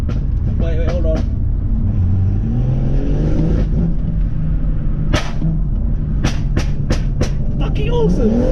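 A BMW M140i with the B58 engine revs up, its loud, close engine note rising smoothly and holding under talk, with a few sharp crackles and pops near the end.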